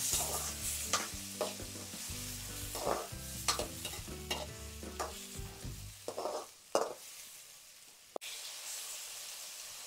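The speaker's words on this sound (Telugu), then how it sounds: "టొమాటోస్ అయితే ఆల్రెడీ కట్ చేసి పెట్టుకున్నాం కదా, ఇవైతే అందులో యాడ్ చేసేసుకొని కలిపేసుకుందాం" Chopped tomatoes are stirred and fried in a pan with ghee for egg pulao, giving a sizzling hiss broken by irregular scraping strokes of a spoon, with a sharp clink near the end; no one talks.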